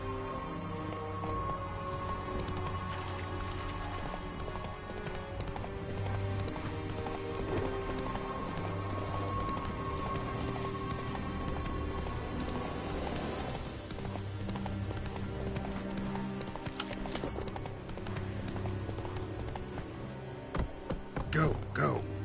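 Roach, the horse in The Witcher 3: Blood and Wine, galloping with a continuous rapid clip-clop of hooves over game music and ambience, with a brief snort near the end.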